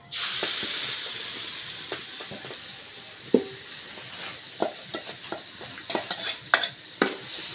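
Ground onion-tomato paste frying in hot oil as it is stirred into a cauliflower gravy, a hissing sizzle with repeated scraping and clacking spoon strokes, growing busier toward the end.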